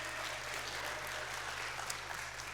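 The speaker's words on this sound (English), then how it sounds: "please give our two captains a big round of applause" Applause from a church audience for two captains, steady and even clapping that sounds faint and distant over a low electrical hum.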